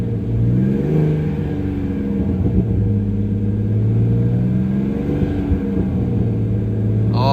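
A turbocharged BMW E46 engine roars loudly and steadily at raised revs around 2,000 to 3,000 rpm, a deep continuous rumble with a brief higher whine near the end.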